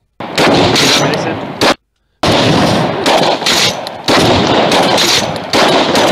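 Rapid bursts of outdoor gunfire and explosive blasts in an FPSRussia firearms demonstration, loud and close, coming in repeated volleys broken by short silent cuts.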